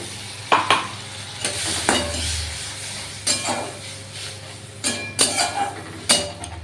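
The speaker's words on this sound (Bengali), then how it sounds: "এই মশলা পেস্টটা আমি এর মধ্যে মিশিয়ে দিলাম" Spice paste for ghugni stirred and sautéed in a pan, with a spoon scraping in several separate bursts over a steady low sizzle, fairly close.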